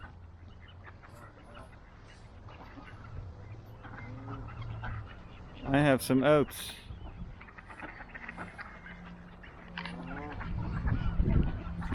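Ducks and geese gather to be fed oats, with scattered quacks, a burst of loud close honking in the middle and more calls later, while someone talks over them.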